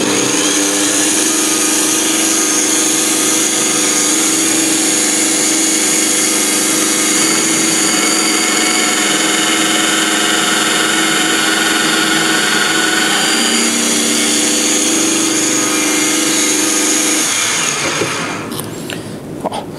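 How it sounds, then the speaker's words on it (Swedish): A loud, steady machine drone with a high whine runs continuously, then winds down near the end, from a Karnasch magnetic drill press boring into metal. "Men jag startar upp den här, så får ni kolla lite när jag borrar."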